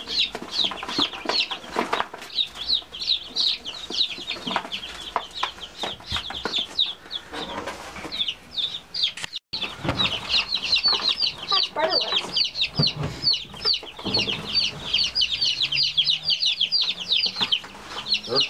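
Young chicks in a brooder peep and cheep constantly in a dense, high chorus, with occasional handling bumps and low background noise.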